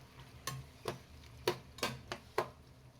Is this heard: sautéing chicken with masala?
yes